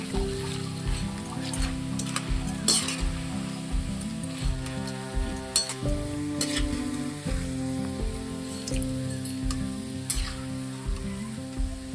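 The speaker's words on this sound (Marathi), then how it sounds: "आवाज येतो चढचढ." Pieces of jackfruit fry in hot oil in a wok, giving a continuous, fairly loud sizzle with a crackling, bubbling texture throughout.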